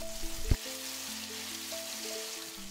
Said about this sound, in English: Fry tomatoes for a few minutes, then add chopped garlic